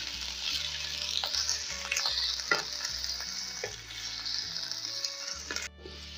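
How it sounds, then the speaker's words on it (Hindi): Chicken frying in yogurt in a handi, a continuous close sizzle broken by occasional spoon scrapes and clinks, dropping away sharply near the end. "ये कितना अच्छा से हमने इसको दही के अंदर भून लिया है"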